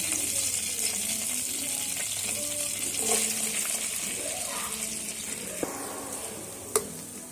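Chopped onion and cumin seeds fry in hot oil with a steady, loud sizzle that runs throughout, broken by a few stirring scrapes and a sharp clink near the end.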